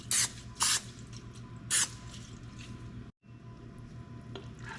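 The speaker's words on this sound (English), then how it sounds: "So we're just gonna spray the dish with a little Pam." Three quick, hissing bursts of Pam cooking spray coat a baking dish for a taco casserole, each short and close, with quiet kitchen background between them.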